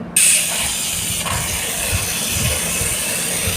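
A small toy train runs with a loud, steady steam-like hiss close by, a sustained breathy rush with faint mechanical rumble beneath and no talking.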